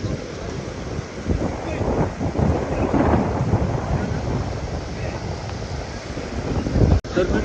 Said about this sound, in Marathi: तर पाऊस खूप मोठ्या प्रमाणात येत आहे